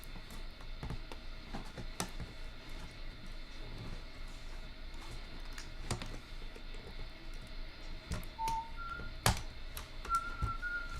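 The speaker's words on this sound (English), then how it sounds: "Keyboard, very uncooperative keyboard." Scattered, irregular key clicks from an uncooperative computer keyboard sound faint and sparse against steady background hum, with occasional short beeps and no speech.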